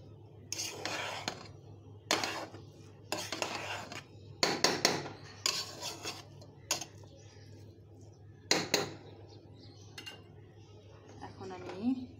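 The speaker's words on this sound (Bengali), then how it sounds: "এখন আমি এটাকে সুন্দর মতো আস্তে আস্তে ওপর নিচ করে দিচ্ছি" Chicken biryani rice is gently turned over in a pot, with soft intermittent spoon scrapes and clinks against the metal and a quiet hum underneath; a voice talks in places.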